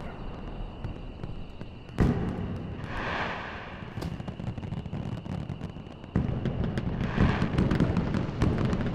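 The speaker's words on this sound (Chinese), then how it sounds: "有机会看到这些独一无二的烟花" Fireworks going off at an outdoor show, with a sharp loud burst, then crackling bursts and booms in uneven sequence, ending in a denser, louder stretch of crackle.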